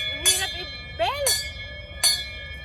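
A bell rings on a hiking trail in Mushrif Park, Dubai, its steady ringing tone holding through the clip while people's voices rise briefly over it.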